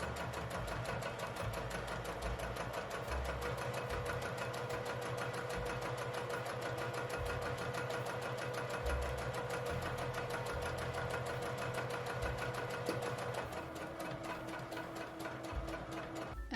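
Sewing machine stitching a clear vinyl pouch at 3mm stitch length, a fast, even mechanical whirr and clatter running continuously and fairly quietly, with no speech.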